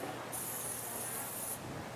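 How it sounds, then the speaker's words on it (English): Cooking spray hisses from a can onto a pan before cold pancakes go on, a single steady spray lasting just over a second against a quiet room background. "we're just gonna use a little pan spray."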